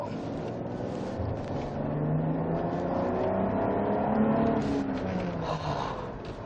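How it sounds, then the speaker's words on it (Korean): A SsangYong Chairman W CW700 4TRONIC, a heavy all-wheel-drive luxury sedan, accelerates hard out of a curve, its engine note rising and holding steady in a continuous loud drone with tire and road noise beneath. "제가 이제 이 커브 꺾자마자 한번 밟아 볼게요 네, 출력 테스트 한번 해볼 건데요"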